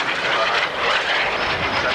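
Aerobatic airplane at an airshow, its engine roaring steadily and loud as it dives and gathers speed, a broad continuous drone with no break across the clip.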